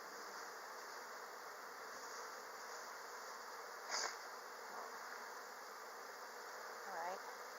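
Honey bees hum steadily inside an opened hive around the queen, a soft continuous buzz with a couple of brief louder sounds rising over it.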